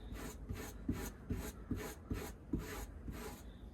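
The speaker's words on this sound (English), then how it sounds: "scrape at the hide, see if this will help get some of this excess" A wire brush scrapes excess skin from a coyote hide during tanning, making about eight steady, rhythmic rasping strokes close up, with no talking.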